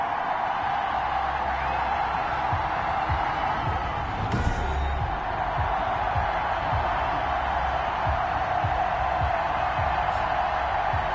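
Stadium crowd at FedEx Field in Madden 21, a steady distant roar of fans with faint cheers running under the whole stretch, with one brief thump.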